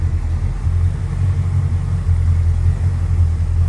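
A 1970 Chevrolet C10 pickup with headers and an aluminum radiator runs at a steady, deep rumbling idle, close and loud, with a slightly uneven throb and no voices.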